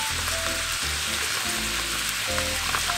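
Spicy pork sausage and chopped white onion fry in a pan with a steady, dense sizzle, close and fairly loud, with faint scraping from stirring underneath.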